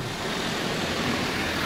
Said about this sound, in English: I think I hear a car behind me too.